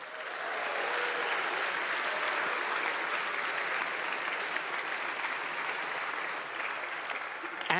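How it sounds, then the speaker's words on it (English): A large conference audience at Euruko 2022 applauds in a sustained, dense wash of clapping that holds steady for several seconds and then eases slightly toward the end. "Give yourself a big applause."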